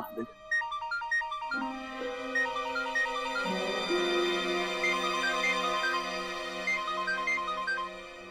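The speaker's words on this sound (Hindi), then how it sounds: "मुझे पता है तू क्यों फोन कर रही है इशिता" A melodic electronic ringtone plays a repeating pattern of high beeping notes, steady and clear, continuing for several seconds.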